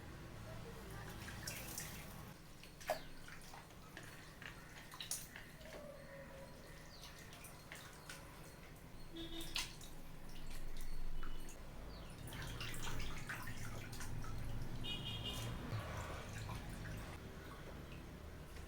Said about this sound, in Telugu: ఈ చికెన్ని ఉప్పు వేసేసుకొని నీట్గా వాష్ చేసేసుకుందాం